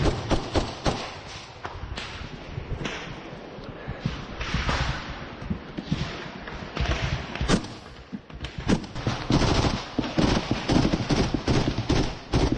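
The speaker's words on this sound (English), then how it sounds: "We still see them firing out of the opening." Gunfire from soldiers shooting out of a dugout opening during a firefight in the Ukraine war, a rapid series of sharp, loud cracks and thuds, irregular and close, with bursts thickening toward the end.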